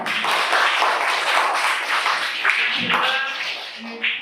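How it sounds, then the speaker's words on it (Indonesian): A teacher and class in an Indonesian school clap together in a quick, uneven burst of hand claps close by, with some voices mixed in. "Jadi saya tepuk tangan buat kalian semuanya."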